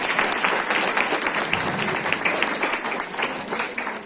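Audience applause at a memorial gathering, a dense, loud wash of many hands clapping continuously and evenly throughout, close and unbroken, with no voices standing out.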